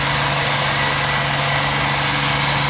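A tractor engine roars steadily and loudly during a 4H tractor pull, a constant heavy drone with a strong low hum and no breaks.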